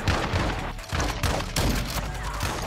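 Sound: shotgun firing in a video game

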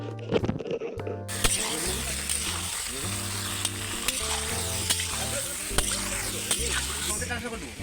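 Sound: stirring salted chicken in a pan

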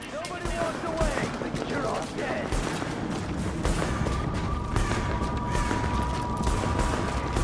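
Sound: gunfire in the video game The Division

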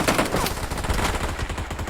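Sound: gunfire in the video game PUBG Mobile

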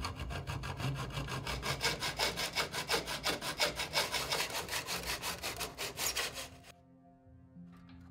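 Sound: cutting aluminium tube with simple hand tools

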